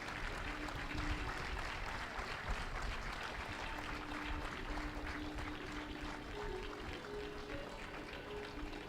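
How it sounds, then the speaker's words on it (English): Steady applause from a large audience at an engineering institute convocation ceremony, continuous dense clapping held at an even level throughout with a faint tonal hum underneath. "Please keep the claps going."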